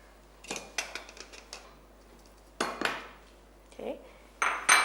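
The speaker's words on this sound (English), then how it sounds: "I'm just going to sieve it in this." Dry baking ingredients, including baking powder, being sieved by hand in a home kitchen while making an Arctic roll, giving a series of close, brisk metallic rattles and taps in short bursts with brief pauses between them.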